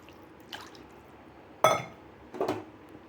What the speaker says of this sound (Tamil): தண்ணி கொஞ்சம் தேவையான அளவு ஊற்றிக்குவோம்.